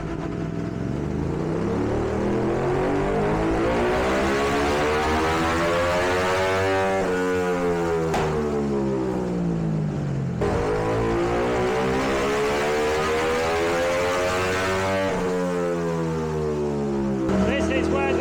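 A tuned Aprilia RS660 parallel-twin motorcycle engine revs hard on a dyno, rising in two long sweeping pulls to a high-pitched scream and dropping back, loud and continuous throughout.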